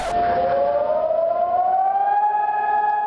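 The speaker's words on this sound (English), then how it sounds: "Memorial Day is commemorated with a siren." A long, steady siren wail for Israel's Memorial Day sounds alone and slowly rises in pitch, loud and sustained throughout with no other noise.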